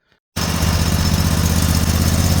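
A small tractor engine, prepared for winter, fires up after a brief click and settles at once into a loud, steady, fast-pulsing idle close by.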